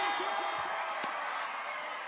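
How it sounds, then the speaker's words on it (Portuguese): A concert audience at a live show in Salvador cheers and applauds as a steady, loud wash of crowd noise with faint whoops, under a brief voice. "Uma salva de palmas e gritão"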